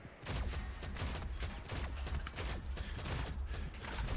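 Rapid shotgun blasts from the FEARAGINI legendary shotgun during a Shadowgun Legends PvP match, firing in dense, loud overlapping bursts that run steadily for about four seconds with no pause.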